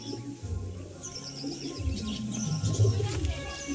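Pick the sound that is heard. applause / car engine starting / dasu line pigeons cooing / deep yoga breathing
dasu line pigeons cooing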